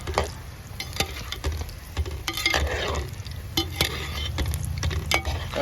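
Egg bajji fry in hot oil with a steady, close sizzle while a utensil stirs and scrapes through the pan in repeated strokes, and no one speaks.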